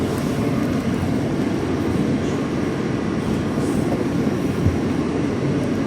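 A New York subway B train moves along, a dense continuous low rumble and roar heard from on board, steady and fairly loud with no talk.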